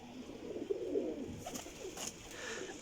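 Champion flying pigeons coo in low rolling murmurs close by, with faint clicks and rustles from the loft, and the calls fade toward the end.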